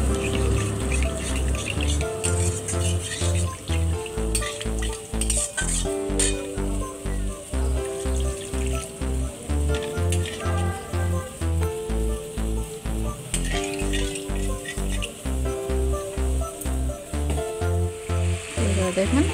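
Water hits fried spice masala in a pan for a cabbage and chicken pakora gravy, sizzling steadily as it is stirred, under a repeating rhythmic music backing.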